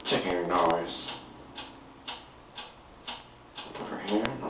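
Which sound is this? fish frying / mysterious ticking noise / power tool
mysterious ticking noise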